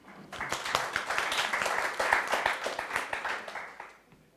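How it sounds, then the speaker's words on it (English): Workshop audience applauding, a dense burst of many hands clapping that swells and then tapers off over a few seconds, heard alone. "I think we need to clap for him."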